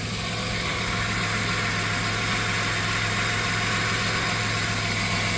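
Engine of a 1997 Dodge Caravan LE idling steadily with the belt running on the pulley after water pump work, a constant close drone with no talking.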